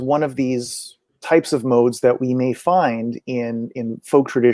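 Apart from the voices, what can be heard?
None of the usual background noises is heard.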